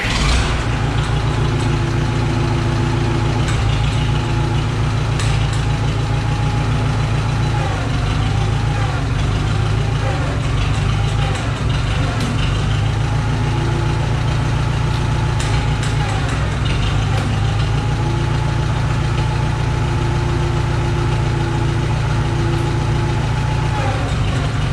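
An older tractor engine idles steadily and loudly up close in neutral, a continuous low rumble with a faint recurring whine throughout.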